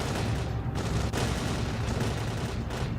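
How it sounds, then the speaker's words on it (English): Dense, continuous gunfire from the S.T.A.L.K.E.R.: Clear Sky game, heading toward Limansk. Many overlapping shots and booms merge into a loud, steady barrage with no pause. "A lot of shooting going on."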